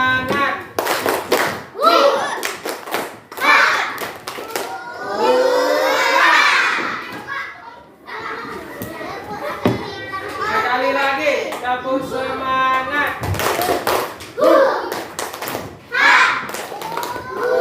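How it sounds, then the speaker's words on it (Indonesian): Children in a classroom do a rhythmic spirit clap, sharp patterned claps and thumps in repeated bursts, mixed with loud chanting voices between rounds. "Supaya lebih fokus nih, kita coba tepuk semangat nih."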